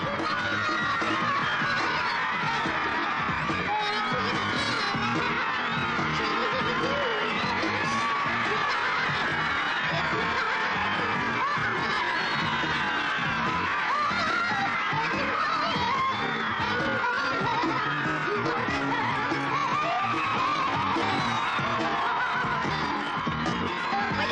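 A large crowd cheers, whoops and yells without a break, a dense and loud wall of voices that holds steady throughout, with scattered shrill shouts rising above it.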